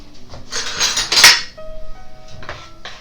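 Cake batter spooned into a baking tin: a metal spoon clinks and scrapes against the tin and bowl in several quick, close, bright knocks, with a faint ringing tone afterward.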